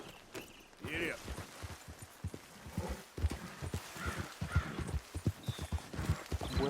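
In Red Dead Redemption 2, a horse's hooves clip-clop in a steady rhythm up close, while someone speaks over the hoofbeats.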